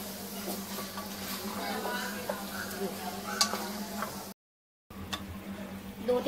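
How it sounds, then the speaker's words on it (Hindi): Chicken fries in a pan with ginger garlic paste, giving a steady sizzle with scraping and stirring clatter, close and fairly soft, briefly cutting out. "अदरक लहसुन भी डाल के अच्छी तरह से 2-3 सेकंड तक भूनना है"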